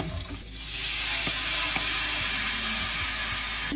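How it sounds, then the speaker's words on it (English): Red wine hits a hot pan of crispy browned chicken bits for chicken puttanesca. A loud, steady sizzling hiss swells after about half a second and holds, with a few faint knocks underneath and no talking. "We're gonna deglaze with some red wine."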